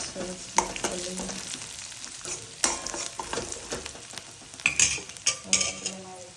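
A spoon stirs a sizzling mixture with crushed peanuts in an oily pan, with scraping strokes and sharp metallic clinks against the pan over a constant frying hiss.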